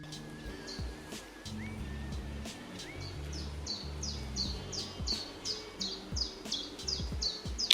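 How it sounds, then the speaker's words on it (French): Small birds in the countryside chirp in quick, repeated high notes that grow busier toward the end, with soft rustling and faint traffic hum underneath. "Avec les petits oiseaux."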